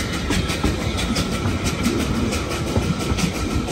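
Narrow gauge railway wagons on the Lynton and Barnstaple Railway rumble past close by, a continuous rolling train noise with faint rhythmic clicks from the wheels and no talk.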